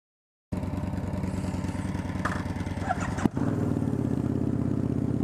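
A Derbi GPR two-stroke motorcycle engine idles and runs steadily outdoors beneath a bridge, a buzzy raspy drone with a sharp clack midway before settling back into the same even note.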